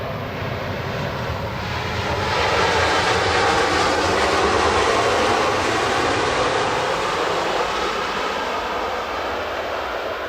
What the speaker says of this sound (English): next flight going out